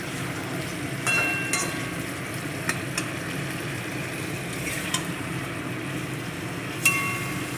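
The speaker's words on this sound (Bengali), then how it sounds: "এবার এটা কষাতে থাকবো।" Chicken sautéing and being stirred in a pan for chicken kosha, a soft continuous sizzle with occasional light scrapes and clinks of the spoon, steady and close with no talking.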